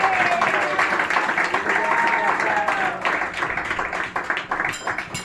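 Church congregation in a Spanish-language evangelical service applauding, sustained dense clapping with voices underneath, tapering slightly toward the end.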